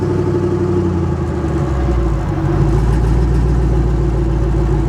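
Twin-turbo Chevrolet Malibu engine running loud and close, a steady low rumble with rising mechanical roar partway through, no talk.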